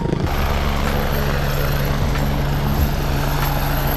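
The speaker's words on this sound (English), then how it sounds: "Look at Ethan leaping the helicopter" Helicopter close by at a motor racing event, a loud continuous rotor and engine drone with a steady low hum, holding for several seconds with no talking.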